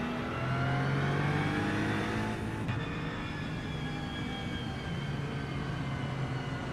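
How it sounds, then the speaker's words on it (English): Several race car engines roar continuously in the iRacing sim during a GT3 event at Watkins Glen, a steady loud mechanical drone with shifting revs, like a pack of cars running together, with no voices. "Sounds like a NASCAR race or something."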